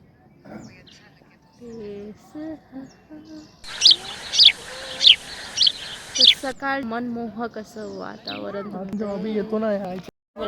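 Birds give a run of bright, repeated chirping calls at sunset, clear for a few seconds in the middle, with people talking before and after.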